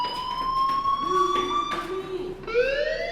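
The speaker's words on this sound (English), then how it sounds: "Hey, do you hear that fire alarm? That means you should be outside." A fire alarm rings in the video game Life is Strange, a loud, continuous electronic wail holding steady with a shift in tone partway through, heard alone without talk.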